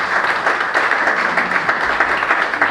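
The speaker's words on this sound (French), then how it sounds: "Si vous voulez, très dans l'idée, applaudissez pour accueillir Guy Stéphane Yassé" A crowd applauds steadily at a book dedication ceremony, a loud and even wall of clapping that holds without break from start to finish.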